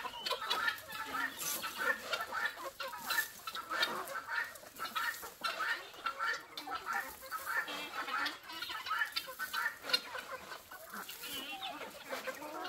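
Many hens and capons cluck and squawk together in a country farmyard at feeding time, a dense continuous chatter of overlapping bird calls, fairly quiet and steady throughout.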